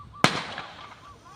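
Firecrackers set off by children give one sharp, loud bang that rings out and decays quickly, heard outdoors near water over faint background noise.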